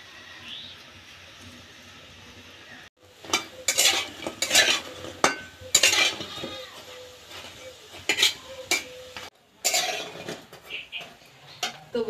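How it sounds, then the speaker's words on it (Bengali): Palta leaf fritters frying on a clay stove with a fairly high flame, a low sizzle under repeated close scrapes and clinks of a spatula against the pan in irregular bursts, with short pauses between. "আস্তে আস্তে জাল দিয়ে ভাজতে হবে।"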